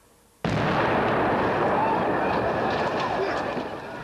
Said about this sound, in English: the SAS detonate a huge explosion to blow out the skylight on the embassy roof